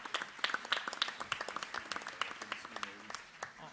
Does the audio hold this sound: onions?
no